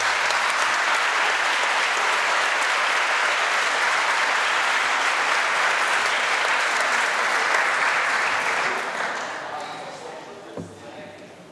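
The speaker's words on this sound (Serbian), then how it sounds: "Molim aplauz." An audience at a school award ceremony for a mathematics competition gives loud, dense, continuous applause that holds steady for several seconds, then gradually fades out.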